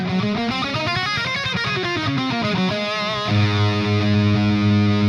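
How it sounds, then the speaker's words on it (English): A distorted electric guitar plays an A Mixolydian scale note by note in a quick stepwise run, then lets a ringing chord sustain. "So here's what the A Mixolydian scale or mode sounds like."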